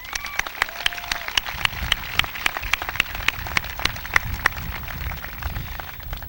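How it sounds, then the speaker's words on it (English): Graduation ceremony audience applauding, a sparse, mid-distance patter of individual claps that keeps steady for several seconds without voices. "So if everybody give him a round of applause."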